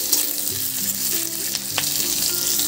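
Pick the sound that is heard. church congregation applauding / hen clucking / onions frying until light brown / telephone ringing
onions frying until light brown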